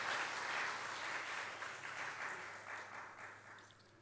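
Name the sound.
congregation applauding in a church service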